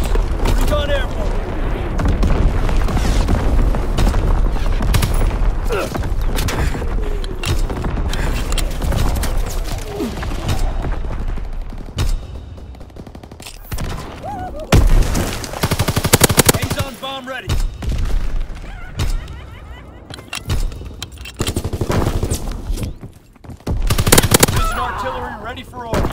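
Artillery units fire in a war video game, bursts of loud rapid gunfire and heavy booms crowding together, with radio chatter from voices mixed in and a few brief quieter gaps.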